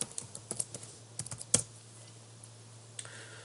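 Quiet typing on a computer keyboard, a scattered run of light key clicks with one sharper tap, then a pause and a final few keystrokes over a low steady hum.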